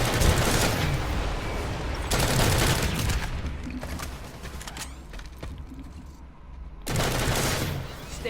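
Rapid automatic gunfire in the video game PlanetSide 2 comes in dense bursts separated by quieter stretches of game ambience, with a short clipped game voice prompt in between.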